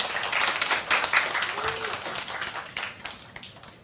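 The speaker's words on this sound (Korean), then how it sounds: "우리 봉독자분에게 박수 한 번만 해주시죠." A church congregation at a young adults' service breaks into brief applause, the clapping loudest at the start and fading away, with a voice speaking over it.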